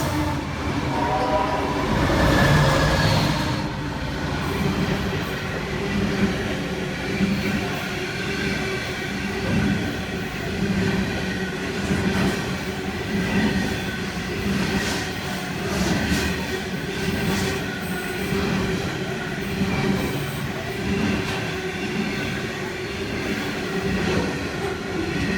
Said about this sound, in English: another wheat train passes through, hauled by two 81s and three 82s from Pacific National.